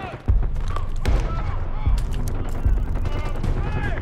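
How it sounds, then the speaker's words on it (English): Rapid gunfire in the video game Call of Duty Black Ops 6, a steady run of loud close shots with heavy low thumps over game noise, while voices speak over it. "We're taking heavy fire at the helo."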